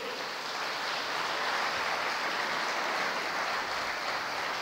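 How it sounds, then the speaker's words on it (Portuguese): Sustained applause from a seminar audience, dense and steady clapping that fills the whole stretch without pause. "Pode dar uma salva de palmas para eles."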